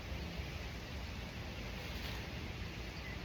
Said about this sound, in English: Super windy here in Aruba.